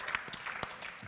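A few scattered hand claps at a panel discussion, faint and sparse, with light background noise between them.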